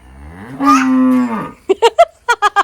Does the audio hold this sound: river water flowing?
no